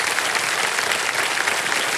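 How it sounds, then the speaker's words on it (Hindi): A studio audience on the KBC game show applauds a contestant, a dense, even burst of clapping throughout. "तालियां बजते रहे इनके लिए"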